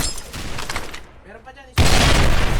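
A grenade goes off in a competitive team shooter match, a sudden loud, wide blast that cuts in after a quieter stretch and stays full and roaring to the end, following busy gunfire-like clatter at the start.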